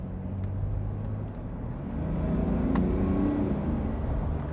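Interior engine and road noise from a 2022 Mercedes GLE SUV as it accelerates, a steady low rumble that swells slightly partway through.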